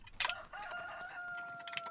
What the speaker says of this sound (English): Cock-a-doodle-doo. I love that sound.